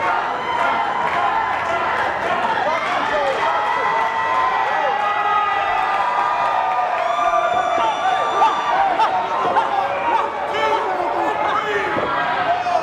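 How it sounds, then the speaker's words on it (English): A wrestling crowd in Hialeah rallying behind the champion during an independent wrestling show, sustained chanting and cheering throughout, with a commentator talking over the noise. "this crowd in Hialeah trying to rally behind the champ"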